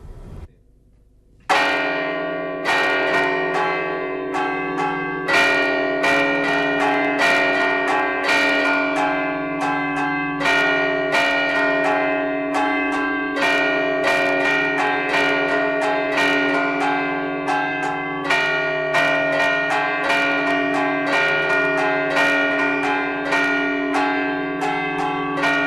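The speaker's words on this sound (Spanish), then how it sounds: "Mire, voy a tocar la tronada. Esto cuando viene una tormenta se toca una vez y se repite otra vez." A church bell tolls a storm warning in a steady, rapid run of loud, ringing strikes that continues for about 25 seconds, the tones overlapping and sustaining, with no voices.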